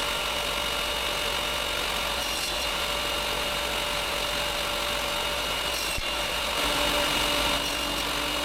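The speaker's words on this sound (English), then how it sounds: "Then I cut 18 pieces of maple, 18 pieces of beech, and 18 pieces of walnut." Steady, broadband power-saw whine with a continuous wood-rubbing rasp as strips of maple, beech and walnut are cut into pieces, running unbroken throughout and rising slightly in loudness near the end.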